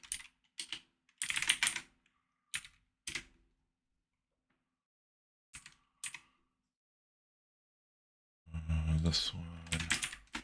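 Keys clatter on a computer keyboard in short bursts separated by silences, quiet and close, with a brief spoken phrase near the end.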